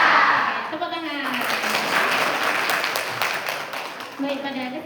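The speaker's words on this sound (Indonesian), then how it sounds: "Tepuk tangan." An audience at a youth health and careers outreach event breaks into applause, a dense, sustained clapping that swells and fades over several seconds, with voices calling out at the start and end.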